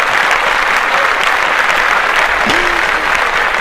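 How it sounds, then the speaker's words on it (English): Sustained applause from a crowd, steady and dense from start to end, with no speech over it. "Clap that shit up."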